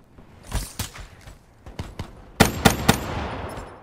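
Gunfire in a Gun Game match of a shooter video game: scattered single shots, then three loud, close shots in quick succession near the end.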